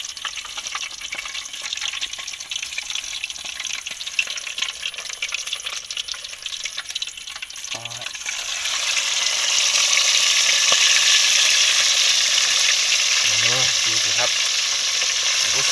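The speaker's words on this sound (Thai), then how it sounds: "ตอนนี้เราก็ทำปลาเสร็จแล้วนะ เราจะทอดครับผม" Fish fries in a pan, starting as quieter background crackle and rising into loud, dense, continuous sizzling about two-thirds through, with brief clinks of handling.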